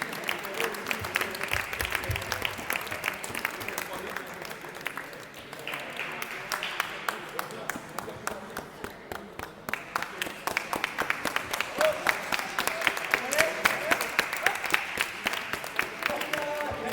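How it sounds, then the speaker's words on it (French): Sustained audience applause at an award ceremony, dense steady clapping from a large crowd that swells and continues throughout, with faint voices mixed in beneath it. "On peut les applaudir encore parce que sinon ça va être long."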